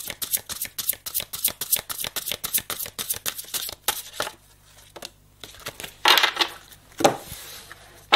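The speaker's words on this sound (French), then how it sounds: "Je vais juste prendre une carte" Cards from an oracle deck are shuffled and handled in a rapid run of crisp flicks and riffles, then a pause, followed by a few louder slides and taps as one card is drawn, close and clear.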